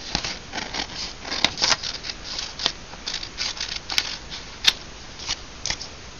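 Scissors cut out paper pieces for a craft background, rapid close snips and crisp paper rustles repeating steadily, with a few sharper clicks standing out.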